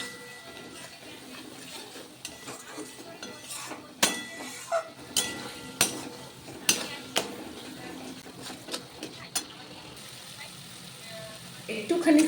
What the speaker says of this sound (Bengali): এবার ভালো করে নেড়ে মশলা খুব ভালোভাবে কষিয়ে নেবো